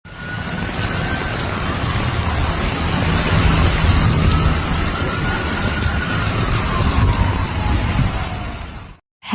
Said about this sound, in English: Heavy downpours in Houston, Texas on Sunday left drivers stranded, roads underwater